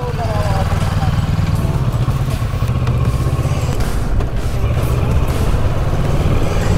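A motorcycle engine rumbles steadily nearby, a low continuous drone with some voices talking over it.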